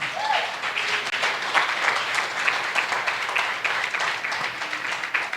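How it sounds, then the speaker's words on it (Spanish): A church congregation applauds in a sustained, dense burst of clapping that stays fairly loud and steady throughout, with a faint voice near the beginning. "Den un aplauso al Señor."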